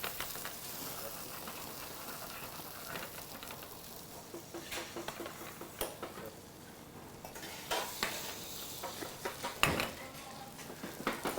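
Jerusalem artichokes sautéing in a pan in a restaurant kitchen: a steady soft sizzle with scattered clinks and scrapes of utensils against the pan, fairly close and moderately quiet, with no talking.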